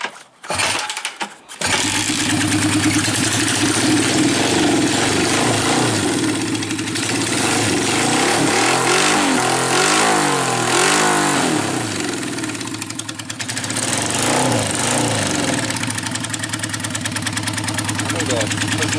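A motorcycle with a disconnected taillight starts up and runs loud and close, idling with a rough pulse and then climbing through throttle revs that rise and fall before settling back, while someone talks over it.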